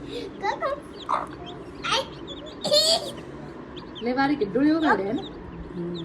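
A hen clucks several times nearby, with faint peeping newly hatched chicks and people talking around them.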